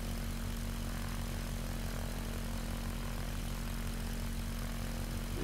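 Steady, unbroken drone of an Air Tractor Fire Boss amphibious plane's propeller engine in flight within Microsoft Flight Simulator, a constant low hum with an even tone, no talking.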